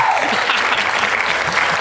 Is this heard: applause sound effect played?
yes